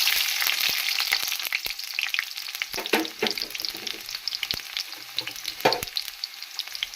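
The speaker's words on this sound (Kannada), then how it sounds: "ಈಗ ಸ್ವಲ್ಪ ಬಿಸಿ ಆದ ಕೂಡಲೇ ಮೊದಲಿಗೆ ಈರುಳ್ಳಿನ ಹಾಕ್ಕೊಳ್ಳಿ." Onions dropped into hot oil in a pan on low flame for a sprouted horse gram sambar, a continuous crackling sizzle with scattered pops and stirring scrapes, close and loud, no talking.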